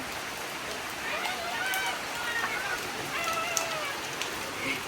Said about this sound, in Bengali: আর বাইরে বৃষ্টি হচ্ছে